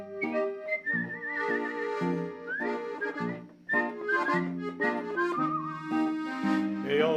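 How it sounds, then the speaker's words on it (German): A person whistles the refrain of a Viennese Wienerlied, a clear, lively melody with sliding pitches and short phrases, close and alone without talk. "Mit dem Pfeifen jetzt."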